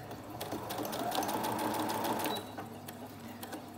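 A sewing machine stitches lace onto a junk journal label in a steady, fast, buzzing run that eases slightly partway through, close and clear, with no talk.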